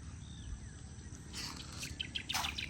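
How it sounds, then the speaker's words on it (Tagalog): A fish-eating bird calls outdoors near water in the rural Philippines, a few short chirping bursts late in the moment over a steady low ambient hum, moderately distant. "yung ibon na yan, yan ang kumakain ng isda"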